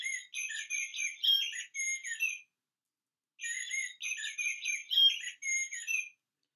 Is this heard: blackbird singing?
yes